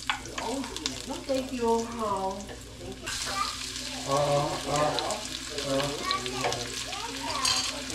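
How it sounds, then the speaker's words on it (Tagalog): Garlic sautéing in a pan in a home kitchen, a steady crackling sizzle running under a voice talking, with a sharper burst of frying hiss partway through. "Gigisa ko sa bawang."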